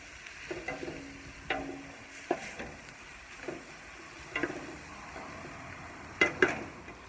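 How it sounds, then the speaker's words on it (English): Celery and onions sauté in a pot with a quiet, continuous sizzle, broken by intermittent scrapes and taps of a spoon stirring every second or so. "we're gonna keep stirring our celery and onions, nice and caramelized"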